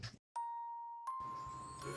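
A notification bell sound effect rings out as two short, clear chime strikes with a sustained bright ring, followed by a soft background hum.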